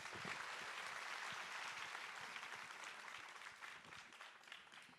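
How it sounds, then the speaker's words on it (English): An audience applauding at a fashion designer's launch event, steady dense clapping that fills the room throughout, fairly even with a slight fade toward the end. "That deserves another round of applause, guys."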